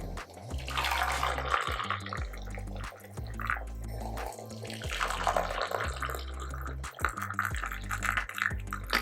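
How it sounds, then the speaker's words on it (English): Coffee pours steadily into a cup, a continuous liquid trickle and splash lasting several seconds with brief pauses, close and clear with no talking. "I'll pour it into a nice cup"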